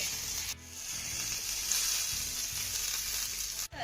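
Peeled garlic cloves roasting in a pan with grated bitter gourd, giving a steady close sizzle and frying crackle with occasional soft scraping stirs.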